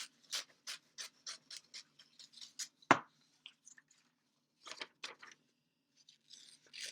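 Scissors snip out a paper llama for a scrapbook page in a quiet room, a rapid series of close crisp cuts with a louder crunch partway through, then a few more scattered snips after a short pause.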